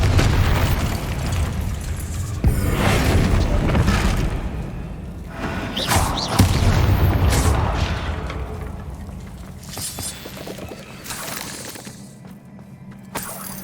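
Bombarda spell blasts in Hogwarts Legacy land as several heavy booms and shattering bursts, each followed by rumbling debris, spaced irregularly across the clip.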